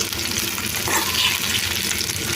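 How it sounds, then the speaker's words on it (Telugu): Green chillies frying in oil in a pan for dosakaya pachadi, a steady, close crackling sizzle with no pauses and no voices. "పచ్చిమిర్చి అయితే మనకు చక్కగా ఫ్రై అయిపోయాయి కదా"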